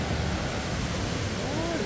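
Sambuyeon Falls in Cheorwon pours heavily, giving a steady, loud, dense roar of falling water that fills the whole short stretch without break.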